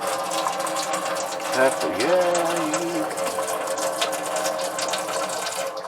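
Water running from a tap while rice is being washed, a steady moderate splashing flow with a brief swirl of sloshing, under a few spoken words.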